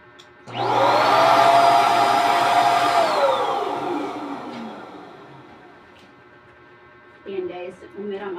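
Electric balloon inflating machine for birthday decorations roars on loudly with a whining blower sweep that fades after a few seconds, followed by softer handling noises. Someone talks nearby.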